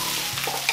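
Kabocha squash tossed into a pan of onions sweating in oil, a brief soft sizzle with a quick stir, close but quiet.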